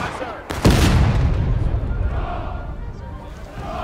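A cannon fires in the Civil War game War of Rights, one loud booming blast followed by a long rumbling roll that slowly dies away, with voices talking over it.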